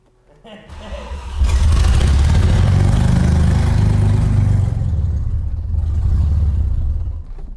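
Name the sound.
Audi 90 Quattro Sport engine running, then stalling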